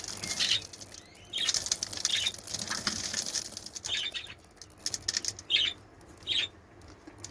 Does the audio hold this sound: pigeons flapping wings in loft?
yes